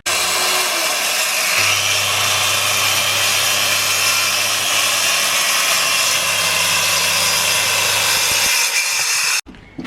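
A power saw cuts wood for a reptile enclosure, whining loud and steady for nearly ten seconds before stopping abruptly, with no voices.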